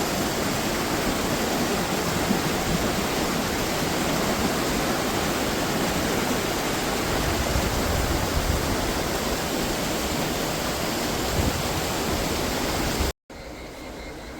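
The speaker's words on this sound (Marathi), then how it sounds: "भरपूर पाण्याचा ओप आहे की त्याच्यामध्ये आपण उभं नाही राहू शकत" Strong river current running during a night of prawn fishing, too forceful to stand in, fills the scene with a loud, steady rushing roar that cuts out briefly near the end, then resumes.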